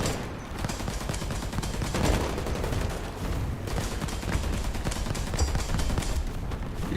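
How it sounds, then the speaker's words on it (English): Tank and battlefield gunfire in War Thunder rumbles steadily, with dense overlapping shots and a low, constant roar of combat noise throughout. "the mechs are just firing at you. Yeah, I'm trying to shoot that Russian T-80."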